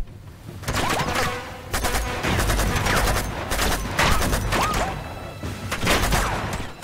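Gunfire in Uncharted 2: Among Thieves during a train sequence, with loud, dense bursts of rapid shots and booming impacts that come in waves, almost nonstop, and barely any pause between volleys.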